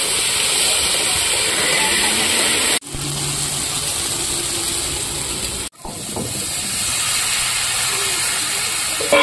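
Cumin seeds, dried red chilies and a ground paste of ginger, cumin and green chili sizzle in oil as a tempering, a loud continuous hiss broken by two abrupt cuts.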